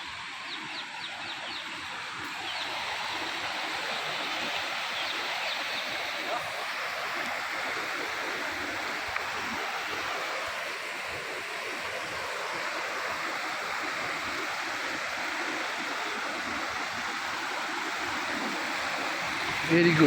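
Steady broadband rush of a flowing stream at Mukutmanipur, continuous and fairly close throughout, with faint bird chirps in the background.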